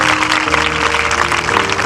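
A church congregation claps loudly and steadily together, a dense wash of applause filling a short stretch.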